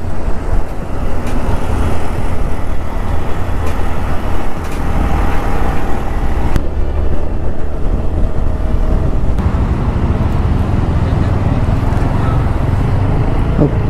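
City road traffic in Pune: a loud, steady roar of nearby engines and tyres, with car, truck and bus rumble blending into a continuous wash without pause.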